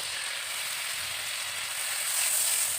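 Ground spices and green chilies fry in a pan for a Bengali aubergine dish, giving a loud, continuous close sizzle that swells slightly near the end, with no stirring clatter.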